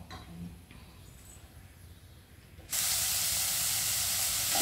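Hot oil in a frying pan sizzling as tempering spices go in for a vermicelli (shavige bath) dish, a quiet kitchen hush suddenly jumping to a loud, steady hiss that holds to the end.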